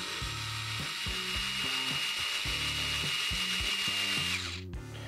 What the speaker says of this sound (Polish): nie będziemy już tych wszystkich śrub wkręcać w drewno, tylko weźmy te największe i spróbujmy z nimi,